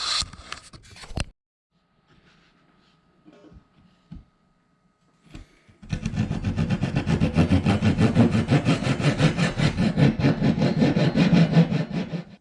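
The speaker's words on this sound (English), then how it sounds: "It's not super fast, but that pull saw can be very precise." Pull saw cutting notches in wooden rocket fins: after a few scattered knocks and a long quiet stretch, a steady close rasp of rapid saw strokes runs for about six seconds.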